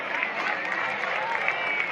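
Crowd noise at a college baseball game between Maryland and Wake Forest in the Winston-Salem Regional, a steady roar with scattered applause throughout, mixed with announcer talk.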